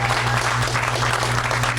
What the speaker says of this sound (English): That's where you applaud.